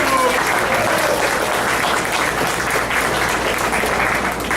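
An audience at a community meeting applauds loudly and continuously, a dense even wash of clapping from start to finish.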